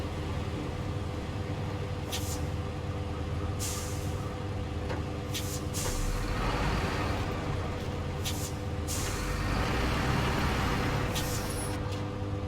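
A truck in a trucking video game in the Michigan region idles with a steady low engine drone while several sharp air brake hisses burst out at intervals over the rumble.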